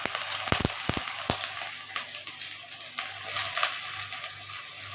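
Cubes of paneer fry lightly in hot oil in a pan, giving a soft, steady sizzle. A few sharp clatters or scrapes stand out near the start, then the quiet crackle carries on alone at low volume.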